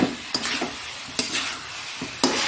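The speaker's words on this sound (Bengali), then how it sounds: "দেখো মাংসটা কষিয়ে পুরো একদম কষানো হয়ে গেছে।" Chicken pieces are stir-fried (kosha) in a pan with spices such as fenugreek and fennel, giving a steady close sizzle broken by several sharp scraping stirs of a spatula.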